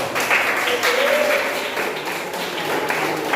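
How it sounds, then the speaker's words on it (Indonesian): Classroom audience applauding after a Quran recitation, a steady wash of clapping with some voices mixed in throughout. "beri tepuk tangan untuk mereka"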